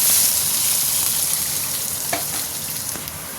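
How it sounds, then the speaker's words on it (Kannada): Chopped onions frying in hot oil with cumin seeds, a steady dense sizzle with a few stirring scrapes, close and fairly loud, no voices. "ಈರುಳ್ಳಿ ಈಗ ಫ್ರೈ ಆಗೋಕ್ಕೆ ಬರ್ತಾ ಇದೆ"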